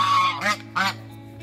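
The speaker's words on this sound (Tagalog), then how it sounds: "Yan yung isa nating bibe." Two short, nasal honking calls from a duck, loud and close, spaced apart against a steady low background hum.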